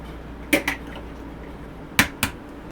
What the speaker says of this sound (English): Let's crack 2 eggs.